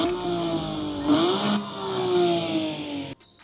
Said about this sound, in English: if you guys were curious to know what a Porsche 911 Gt3 Rs sounds like, you can actually rev one up here